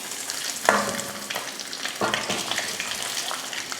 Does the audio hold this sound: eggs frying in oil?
yes